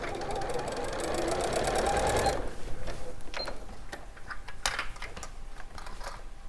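An Elna 680 sewing machine runs in a fast, steady stitching whir for about two seconds, then stops, leaving scattered clicks and light handling noises.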